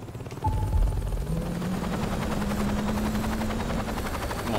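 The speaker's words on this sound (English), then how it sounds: "We gotta get this helicopter over here on this." A helicopter in the video game Saints Row 2: steady rotor drone and engine whine hold loud and constant after a brief thump at the start.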